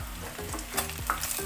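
Chicken wings frying in hot oil for Buffalo wings, a steady close crackle and sizzle with bubbling pops throughout, no talking.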